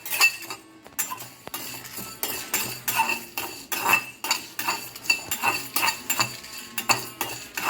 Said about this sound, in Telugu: ఆయిల్ ఏం లేకుండా ఉత్తగానే డ్రై కడాయిలోనే మిరియాలు, జీలకర్ర, కొద్దిగా ధనియాలు, ఎండుమిర్చి దోరగా ఫ్రై చేసుకోవాలి